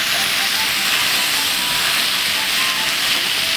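Water hits a hot pan holding stir-fried tofu and chicken in oyster sauce with sugar and mushroom stock, setting off a loud, continuous hissing sizzle that stays strong and even from start to finish.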